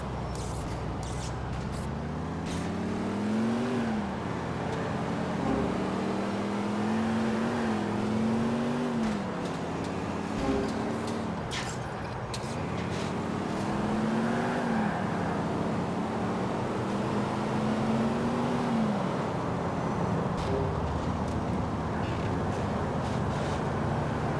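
A car engine in the racing video game GTA 4 revs hard through repeated rising gear pulls, each climb dropping off as it shifts, loud and continuous throughout with no voices.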